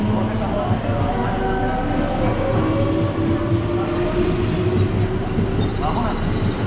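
A JR Kobe Line train sits at a platform of Amagasaki station, its steady low rumble and hum filling the space with a faint high tone drifting in, while a platform announcement voice talks over it.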